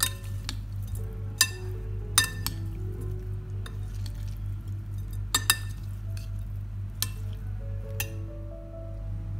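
Masala with lemon juice being stirred in a dish for a Nepalese-style potato salad: a steady low hum runs under scattered clinks of a spoon against the vessel and soft wet mixing noises, with no talking.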